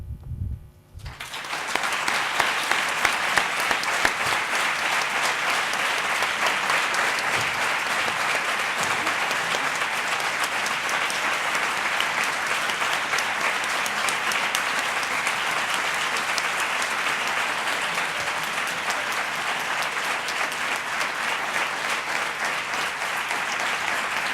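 Sustained, dense audience applause from a large crowd in memory of Pablo, starting abruptly after a few faint sounds and holding steady and loud throughout without fading.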